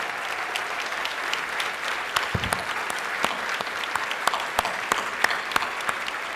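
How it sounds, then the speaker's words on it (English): A luncheon crowd claps steadily in moderate applause, even and sustained throughout, heard from a middle distance without voices over it. "let's give them a round of applause for their hard work"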